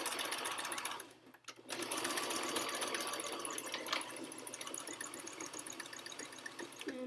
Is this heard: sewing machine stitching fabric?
yes